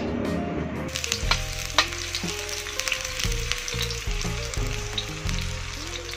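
Shallots fry in hot oil with a dense, crackling sizzle, sharp pops and a few clinks of stirring, close and steady with no talk.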